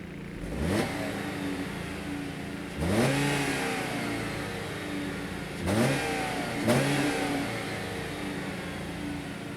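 A 2016 Chrysler 200 mid-size sedan engine revs up four times in a row, each rise a deep growly climb over a steady idle, heard close and alone.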